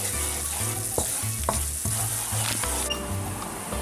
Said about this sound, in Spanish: Una vez tenemos la harina fritita con los ajos